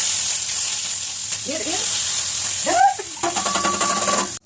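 Onions frying in hot oil in a pan give a steady sizzling hiss, with brief voices chattering over it and some clattering near the end.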